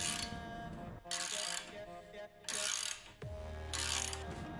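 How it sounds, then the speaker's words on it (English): A ratchet and spanner turn screws on a workbench build, producing three or four distinct bursts of crisp, close ratcheting clicks with brief gaps of quiet between them. "Here, I am using the spanner and the ratchet to unscrew the screws."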